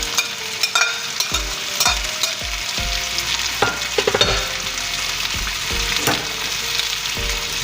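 Onion goes into a pan for Southern-style smothered fried potatoes and fries with a steady, bright sizzle, while repeated stirring knocks and scrapes of a utensil sound close by throughout.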